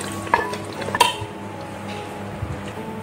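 Ground dried anchovies go into a pan of spice paste frying for curry noodles, with a couple of sharp metallic clinks from a utensil followed by soft stirring and a faint sizzle.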